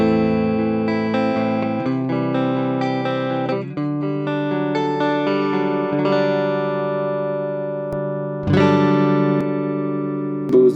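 An electric guitar plays through a NUX Mini Studio impulse response loader simulating Jazz 120 and Deluxe Reverb 1x12 cabinets, a continuous run of chords and notes with a full, amplified tone, steady and loud, ending on a strummed chord.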